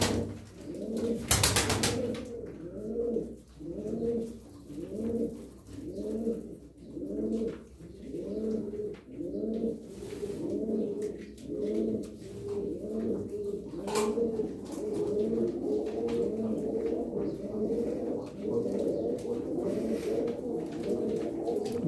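Çorum tumbler pigeons cooing, a steady run of soft, rounded low coos repeating in a regular rhythm from nearby birds, with a brief louder rustle or flutter near the start.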